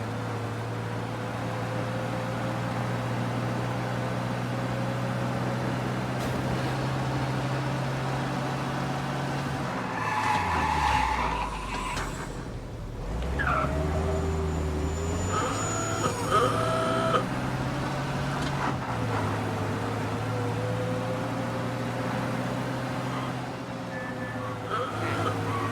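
Car driving in Mafia: Definitive Edition, a steady low engine drone with rising and falling pitch as it shifts, interrupted midway by brief clunks and a dip in engine tone before cruising on evenly.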